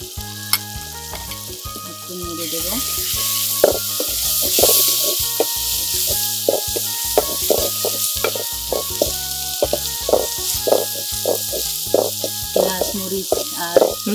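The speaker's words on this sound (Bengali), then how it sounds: "রসুন রসুন তারপরে শুটকি মাছ দিয়ে একটু ভেজে নিন" Dried knifefish shutki frying with garlic and hill-grown jhum vegetables, a steady loud sizzle under repeated stirring and scraping, with occasional talk over it.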